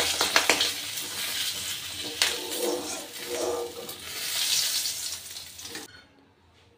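Katla fish heads fry in hot oil, a steady close sizzle with crackles and occasional clatters that stops abruptly near the end.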